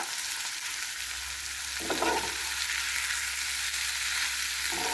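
Paneer fries on a tawa until crisp, giving a steady, close hissing sizzle with a couple of brief stirring scrapes and no talk.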